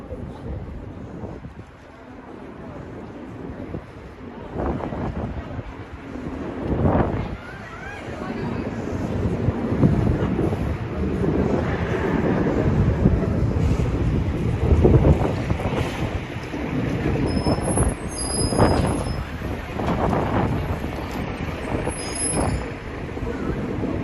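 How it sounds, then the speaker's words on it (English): Strong wind buffets the microphone on a street in Lower Manhattan, a continuous low roaring rumble with gusty swells and a faint high whine, loud and close, with a voice speaking over it. "Wind whipping up the Canyon of Heroes here in Lower Manhattan."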